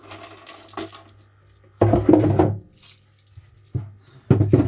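Handfuls of 20p coins clinking and spilling inside a JPM fruit machine, several bursts of metallic jingling separated by pauses over a low steady hum, fairly close.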